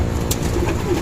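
Racing pigeons coo softly at their home loft after returning from a 13-kilometre toss, low murmuring calls repeating steadily over a close, busy background.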